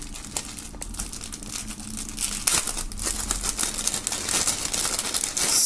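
Plastic foil crinkles and rustles close up as a band patch from an unboxing is unwrapped, with irregular crackling bursts that grow busier toward the end, and no talking.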